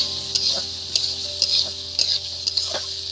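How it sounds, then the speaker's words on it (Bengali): A spoon stirring beetroot and carrot in a pan, with a soft steady sizzle under about half a dozen evenly spaced scraping strokes, close and clear with no talking. "আর বিট আর গাজর দিয়ে ভালো করে এটা নাড়তে থাকবো"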